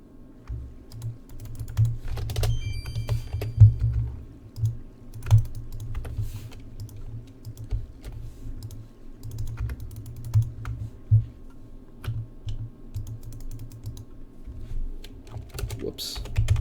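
Computer keyboard arrow keys pressed in quick irregular bursts during a speedrun of the Quest for Glory thief game, close and clicky over a low steady hum, with no talking.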